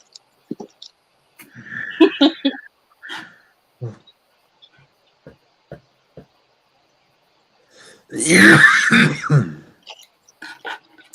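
A loud burst of coughing and throat clearing near the end, following scattered short vocal sounds and brief talk.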